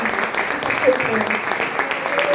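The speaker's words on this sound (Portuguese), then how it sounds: "eu peço que você aplaude o Senhor agora" A church congregation applauds the Lord, a steady wash of clapping hands mixed with scattered voices calling out.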